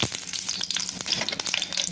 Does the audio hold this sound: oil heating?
yes